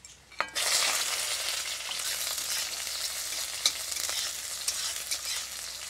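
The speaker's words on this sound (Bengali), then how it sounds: "দেব পেঁয়াজ কুচি" Chopped onion lands in hot mustard oil in a kadai, already tempered with black cumin and a dried red chilli, and sets off a sudden loud sizzle. The close crackle then holds steady, with occasional stirring clicks and no speech.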